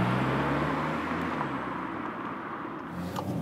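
Steady, rising engine and road hum from a 2020 Seat Leon FR mild-hybrid accelerating harder, heard from inside the cabin as a smooth continuous drone without talk.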